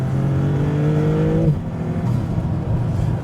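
Maserati MC20 Cielo engine and exhaust while driving on a canyon road, a loud rising rev that climbs in pitch then drops off sharply as revs fall, followed by a rougher lower exhaust burble.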